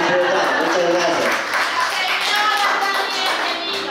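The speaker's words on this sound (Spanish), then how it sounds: "Fuertes los aplausos" Clapping from guests at a baptism party, a fairly loud, close patter of hands that runs the whole moment while voices carry on over it.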